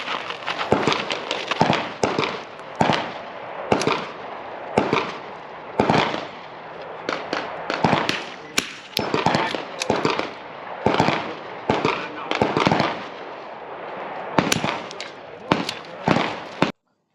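Sharp .22 rifle shots ring out at an NRL22 shooting match on an outdoor range, some from a tire position, as a steady string of loud cracks at irregular intervals across the clip, with a few quieter gaps.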